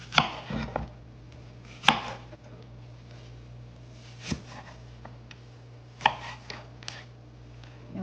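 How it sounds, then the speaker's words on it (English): Knife chopping apples into bite-sized chunks for fruit salad on a cutting board, a handful of sharp, separate chops spaced irregularly over a quiet background with a low steady hum. "what we're going to start doing now is chopping our apples first."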